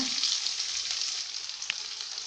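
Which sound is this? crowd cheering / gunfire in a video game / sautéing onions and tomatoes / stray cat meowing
sautéing onions and tomatoes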